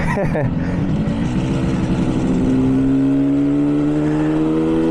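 A 1967 Yamaha YR1 motorcycle engine while riding, with a heavy clutch and low on fuel, droning loudly and steadily as its pitch climbs during acceleration, with a buzzing exhaust note throughout.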